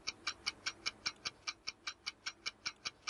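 Countdown clock on a televised cricket quiz show ticks steadily, about five even clicks per second, clear and upfront over a quiet studio background with no voices.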